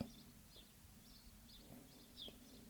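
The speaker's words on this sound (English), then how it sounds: "These sparrows live in our roof." Faint, repeated high chirps from sparrows living in a house roof, scattered over a low background hum.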